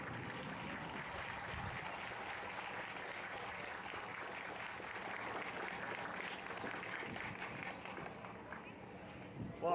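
An audience at a gathering against hate in Oregon applauds to welcome Senator Jeff Merkley, dense steady clapping that fills the whole stretch at a moderate distance, with voices faintly mixed in.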